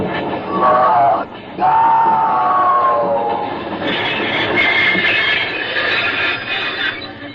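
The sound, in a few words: locomotive train passing, radio drama sound effect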